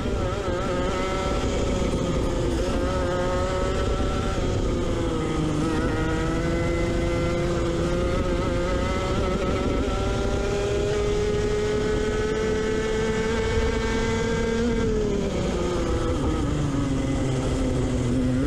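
A go-kart engine races around a karting track in a final, holding a loud, steady buzzing drone with rising and falling pitch as the kart accelerates and briefly eases off, continuous and close throughout.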